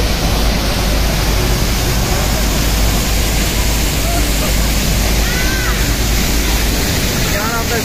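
Tegenungan waterfall in Gianyar, Bali, a loud, dense, steady rushing roar of falling water that fills the whole stretch without a break, heard close up.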